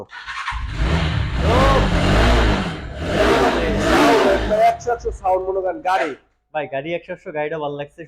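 A used motorbike engine revs loudly up close, rising and falling for several seconds before someone talks over the idle.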